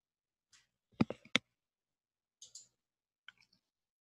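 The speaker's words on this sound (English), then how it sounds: "click on File in your Excel spreadsheet" Mouse clicks at a computer while working in an Excel spreadsheet: a quick cluster of three or four sharp clicks, then a pair of lighter clicks and a final faint tick after pauses, close and alone in quiet.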